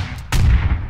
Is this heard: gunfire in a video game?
yes